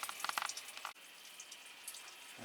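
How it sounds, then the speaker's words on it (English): Water pours onto a potted Phalaenopsis orchid, with a few splashy bursts at first, then a softer steady trickle and dripping that continues alone. "so we'll water this one."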